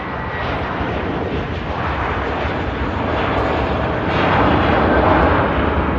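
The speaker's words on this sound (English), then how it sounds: "Lufthansa on the roll out to Munich." A Lufthansa airliner rolls out for takeoff to Munich at Manchester Airport, a steady broad jet roar filling the clip and swelling slightly louder toward the end, with no talk over it.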